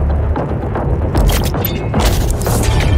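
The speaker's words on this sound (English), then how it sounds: "Heavy cannon. That's what I'm talking about." Heavy cannon weapon firing in the video game Doom Eternal, a dense rumble of deep booming blasts with bursts of sharp impacts, loud and continuous with no talk.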